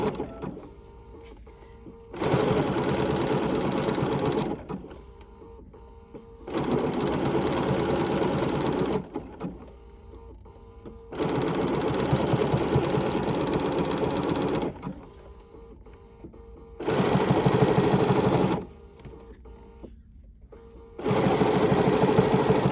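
A BERNINA sewing machine stitches with a double cording foot in several steady bursts of a few seconds each, separated by short pauses, loud and close with no talking.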